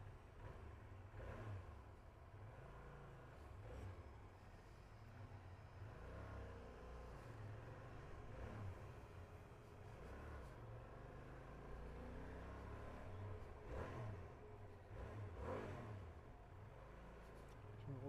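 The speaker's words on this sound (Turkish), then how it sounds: "Ay çok diri bir motor ya." An SRT 800X motorcycle engine revs and pulls steadily during a test ride, its deep rumble rising and falling in several surges over continuous road and wind noise.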